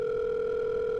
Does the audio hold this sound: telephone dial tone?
yes